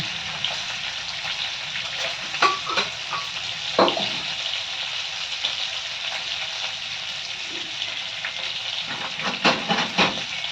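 Asafoetida dropped into hot oil in a home kitchen pan, giving a steady close sizzle and hiss with scattered scraping stirs and a few louder crackling bursts throughout, no talking.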